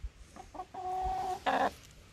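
Chickens clucking in short bursts near a backyard coop, a few rising calls and one louder, squawking cluck, with no talk over them.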